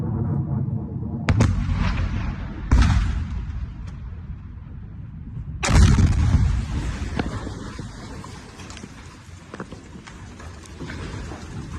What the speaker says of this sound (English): Here is actual video footage of this, I believe one, maybe both of these missiles hitting this base.